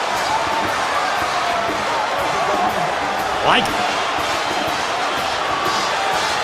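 A basketball arena crowd roars in a continuous dense wash of cheering during a Sweet 16 game, with a band faintly playing and a brief voice speaking over it.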